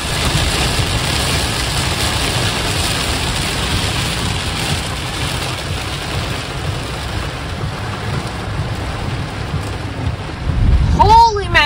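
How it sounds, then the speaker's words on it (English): Heavy rain falls in a steady, continuous hiss at a lakeside campsite. It holds evenly throughout, and a brief squeaky sound rises near the end. "that's a lot of rain"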